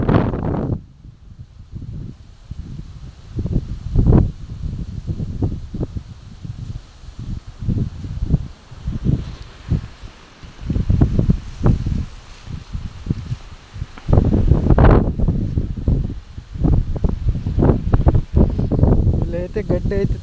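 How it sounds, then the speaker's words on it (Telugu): Strong wind gusts through an open field, roaring and buffeting the microphone in uneven surges with rustling grass, while a voice talks over it throughout. "ఈరోజు గాలి చాలా ఎక్కువగా ఉంది"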